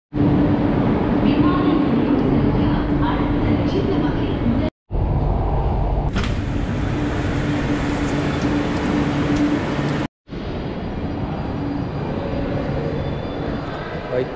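A loud, steady rumble and roar of a Chennai Metro train pulling into the platform fills the scene, with an announcement voice heard over the noise.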